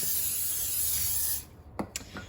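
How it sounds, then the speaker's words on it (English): A loud, close hiss of cooking spray sprayed onto a pan lasts over a second, then stops, followed by a few soft knocks and taps. "spray your pan"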